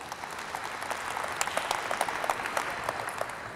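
Audience applause at a South Side community safety town hall in Chicago, a steady wash of many hands clapping for several seconds at moderate loudness, with no speech over it.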